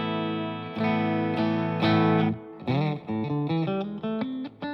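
Electric guitar played through a Marshall 1959 Vintage Overdrive pedal with a touch of reverb into a Positive Grid Spark 2 amp: sustained distorted chords, then a run of shorter picked notes, loud and close.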